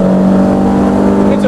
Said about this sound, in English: On the limiter, really feel that cut off on the limiter there.